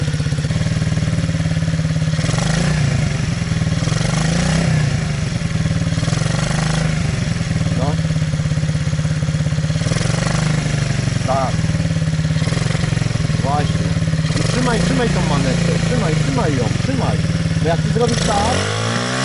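A motocross bike engine runs close by and loud, holding a steady drone with throttle swells and revving surges, while people talk over it throughout.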